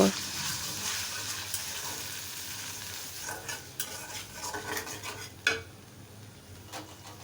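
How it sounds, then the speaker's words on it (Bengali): A spice paste of ground ginger, garlic and onion is sautéed in a pan, with a constant hiss of frying and intermittent spoon scrapes and clinks against the metal, moderately close, without talk. "এখন মশলাগুলো কষিয়ে নিব"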